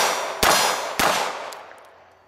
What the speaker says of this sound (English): Let's just rapid fire this into the gong right there, okay?